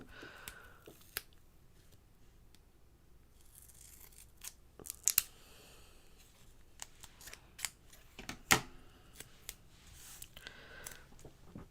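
A craft piece, likely paper or card for a shaker box, being cut in half with scissors, heard as scattered crisp snips and a few louder clicks over a quiet background.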